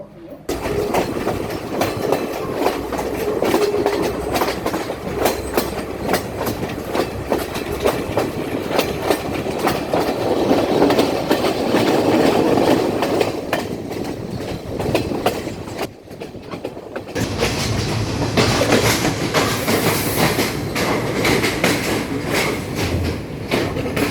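A train rolls along the rails toward a small station with a steady, loud rumble and clatter of wheels and carriages, a brief dip in the noise partway through, and no speech.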